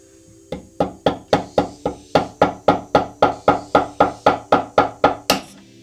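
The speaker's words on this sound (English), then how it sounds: "I'm gonna use a chisel, and I'm gonna lightly tap it with a small little cabinet hammer" A small cabinet hammer lightly taps a chisel to loosen the nut on an old guitar: a steady run of about eighteen crisp, evenly spaced knocks, close and clear, with no voices.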